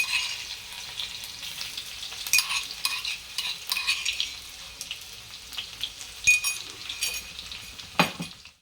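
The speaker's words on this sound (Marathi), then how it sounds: "दोन तवडी तेल टाकते मी आता मी त्यामध्ये टाकते टेचून घेतलेला बारीक लसूण" Finely crushed garlic fries in a generous pour of oil, giving a steady, moderate sizzle with a few sharper crackles and occasional scraping stirs and utensil clinks across the pan.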